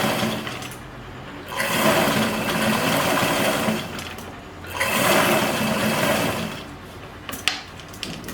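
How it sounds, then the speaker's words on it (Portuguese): A domestic sewing machine stitches a zigzag over a garment hem, two long bursts of rapid mechanical clatter separated by short pauses, close and steady with no talk. "a gente vai mudar para o ponto zigue-zague e vai começar a costurar ele por cima da nossa bainha"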